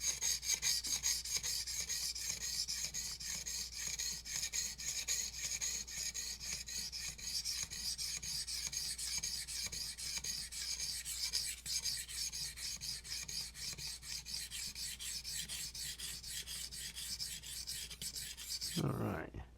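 A knife is sharpened on a whetstone with steady, rhythmic rasping strokes, close and continuous, ending abruptly with no voices.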